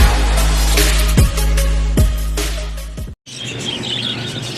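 Pet birds chirp in a busy chorus of high tweets over a steady low hum, with a few sharp sweeping calls and a brief drop to near silence before the chirping resumes.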